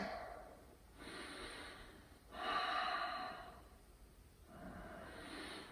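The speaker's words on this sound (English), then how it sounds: "A couple more breaths here." Slow deep breathing during a yoga twist, three long airy breaths in and out, close and soft, each rising and fading with quiet gaps between.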